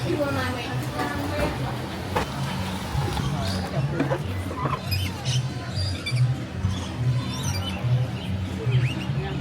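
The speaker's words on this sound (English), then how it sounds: "We're heading in to the Aviary." Small birds chirp and call inside a zoo aviary at Busch Gardens Williamsburg, a busy mix of bright tweets near and far, with people talking over them throughout.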